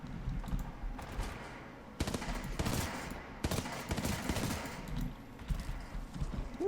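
Bursts of gunfire from a gun in the video game Titanfall 2, with sharp onsets near two and three and a half seconds followed by dense rattling shots, fairly close and loud over a steady busy background.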